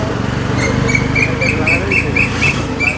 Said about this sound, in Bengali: দেখো পাখি ডাকছে